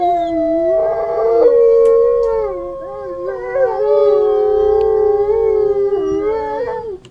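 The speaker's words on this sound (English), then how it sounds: "It starts out with this recording of wolves" Wolves howling in a recording, several overlapping long, wavering howls rising and falling in pitch, loud and close, with no talking over them.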